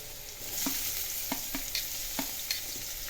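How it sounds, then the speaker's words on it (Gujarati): Vegetables for Gujarati vaghareli khichdi fry with a steady soft sizzle in a pan as tomatoes go in, and several distinct scraping strokes of a spoon stir the mix at a moderate pace. "હવે ટામેટાં એડ કરીએ."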